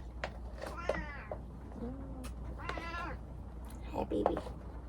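A cat meows several times at close range, short rising-and-falling cries with a caterwaul edge, heard alongside a person speaking softly to it indoors.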